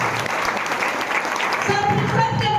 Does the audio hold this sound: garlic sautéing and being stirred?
no